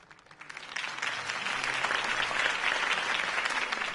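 A crowd bursts into applause after a campaign speech in the Batman Telltale video game, the clapping swelling quickly and holding as a dense, steady roar.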